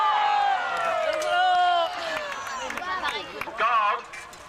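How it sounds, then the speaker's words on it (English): A crowd at a medieval festival cheers and whoops in a short burst, with excited voices rising and falling together. "Give him a cheer."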